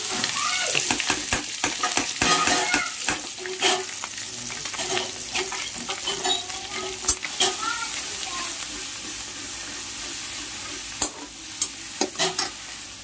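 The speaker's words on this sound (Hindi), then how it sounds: "इसमें मैंने जीरा डाल दिया है, जीरा हो रहा है। अब इसमें हम पीसा हुआ मसाला" Ground spice paste with cumin seeds fries in a pan for a Holi home-cooking dish, a steady crackling sizzle broken by repeated scraping strokes of stirring, close and fairly loud with no talk.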